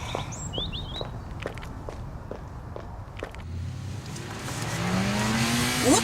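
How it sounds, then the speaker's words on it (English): A car engine rises in pitch as it revs up toward the end, following soft footsteps and ambient noise earlier. "Listen to the engine, Vivian."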